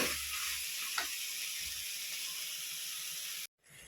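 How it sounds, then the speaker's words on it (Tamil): Soybean mixture sautéing in a pan, a continuous close sizzling hiss that cuts off abruptly near the end before a faint return. "இதை வதக்கி இது ஒரு பத்து நிமிஷம் லைட்டாக வேகட்டுங்க"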